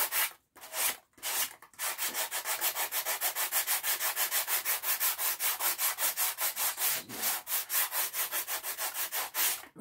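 Rhythmic hand sanding of a wooden workpiece, loud and close, with steady back-and-forth strokes repeating quickly after a few slower opening passes, no talk.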